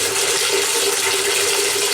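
Water rushing steadily out of a pressurized plumbing tank as the pressure is bled off during winterizing, a constant broadband hiss and gush with no pauses, close and fairly loud.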